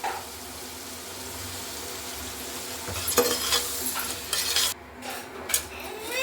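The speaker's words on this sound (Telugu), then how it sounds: "ఇప్పుడు ఒకసారి మళ్ళీ మిక్స్ చేసుకున్నాం వెజిటేబుల్స్." Salted mixed vegetables being stirred in a hot pan, a continuous near sizzle under scraping and clinking of a utensil against the metal, growing busier toward the end, with no talking.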